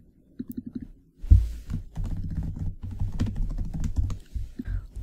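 Typing notes on a computer keyboard in Tinkercad, with a short run of light key taps followed by a denser, steady stream of close, clicking keystrokes and low thumps.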